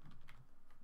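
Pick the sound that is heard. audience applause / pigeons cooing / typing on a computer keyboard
typing on a computer keyboard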